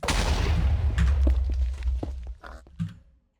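Fireball launched in Minecraft, a burst of crackling impacts and low rumble that fades over a few seconds, with a final thud near the end.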